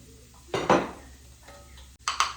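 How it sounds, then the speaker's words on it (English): Minced beef is tipped back into a pot of chopped vegetables and garlic for a ragu, giving close, moderately loud clatters and scrapes of a utensil against the pot in a few separate bursts with a soft sizzle. "I am gonna add the beef back into the pot"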